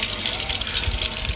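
Water gushes and splashes loudly and steadily from a camper van drain once the plug is pulled, a continuous rushing flow with no voices.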